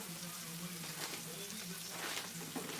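Cube steak browns in a frying pan on the stove, giving a steady, soft, continuous sizzle with faint crackles throughout, quiet and uninterrupted.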